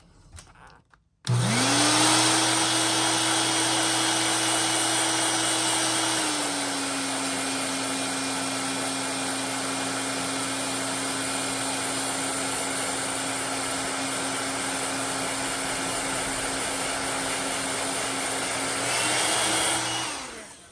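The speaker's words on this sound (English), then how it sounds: "I may have to heat set that while I hold it." A heat gun blows steadily to heat-set chameleon paint on a JDM Luxxe Avenge 80 fishing lure, a loud close whining roar that starts abruptly and holds for nearly twenty seconds, its pitch dipping slightly partway through.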